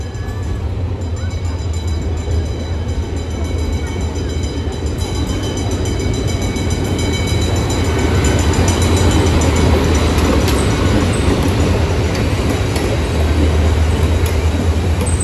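A passenger train rolls through Landhi railway station, a loud steady rumble of wheels and carriages with a deep low drone and rail clatter filling the whole stretch, no talk over it.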